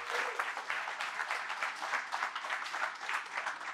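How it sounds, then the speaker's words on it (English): A conference audience applauds a keynote speaker on AI and automation, a dense, steady wash of many hands clapping at close range for the full span, with no voices above it. "give a round of applause to our keynote speaker, Matthew Chang."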